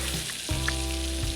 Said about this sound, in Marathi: बारीक चिरून घेतलेलं आलं आणि लसूण मी यामध्ये फोडणी करून घेणार आहे.